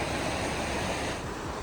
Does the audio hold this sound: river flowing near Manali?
yes